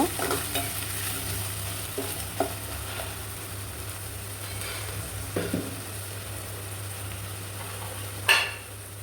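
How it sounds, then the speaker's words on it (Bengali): Chopped onion with ginger garlic paste and salt sizzles in a pan while a spoon stirs it, a steady fry punctuated by several clinks and scrapes of utensil against metal, no speech. "এখন নেড়ে চেড়ে পেঁয়াজটাকে ভালো করে ভেজে নেব।"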